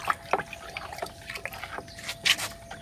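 Water splashes and trickles over shallots growing in a polybag, a close, uneven run of small pours and drips with a brighter splash near the end.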